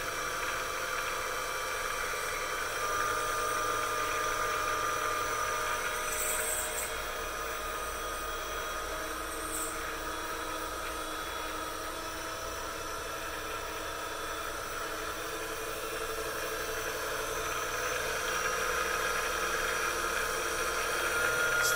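A milling machine spindle motor, on a PM-728VT mill, runs steadily at 3000 RPM, giving a continuous even whine and hum with no change in level throughout and no voices.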